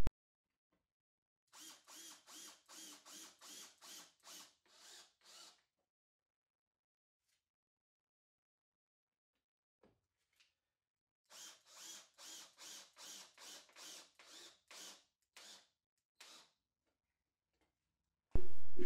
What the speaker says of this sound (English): I can screw down those wood screws and get everything ready for the first carving operation